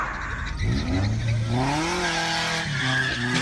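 Corvette racing in a driving game, engine roaring and climbing in pitch through the gears while tires squeal and skid, loud and continuous over a few seconds with no talking.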